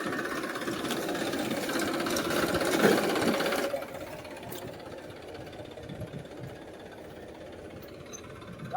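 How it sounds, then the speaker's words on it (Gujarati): A diesel tractor engine chugs and rumbles steadily nearby, louder at first, then settling into a lower idle. "હવે ટ્રેક્ટર આવી ગયું છે હવે"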